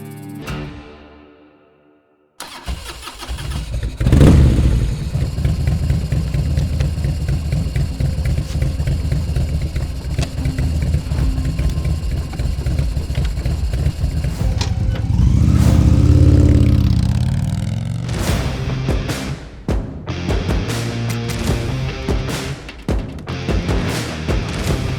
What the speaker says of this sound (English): First ride on this new Chieftain with the PowerPlus motor, it is light years ahead of the traditional air-cooled V-twin motorcycle.